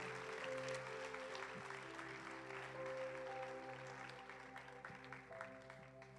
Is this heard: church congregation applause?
yes